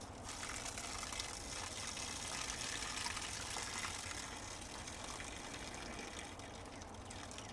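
Water pours off black walnuts in a container as a steady, faint rushing gush that runs without a break.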